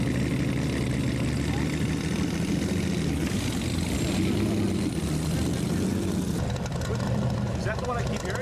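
A turbine-engined car starts up at an outdoor concours car show, giving a steady jet-like roar that shifts in tone partway through, with people talking nearby over the engine noise.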